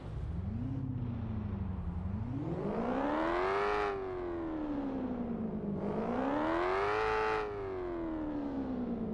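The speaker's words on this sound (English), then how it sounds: "Let's give it a little rev." A BMW M3 E36 engine in Euro Truck Simulator 2 revs up twice while parked in long rising-and-falling sweeps, loud and close, with a smooth synthetic tone and no talking.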